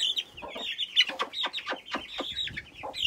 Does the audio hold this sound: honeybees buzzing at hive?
no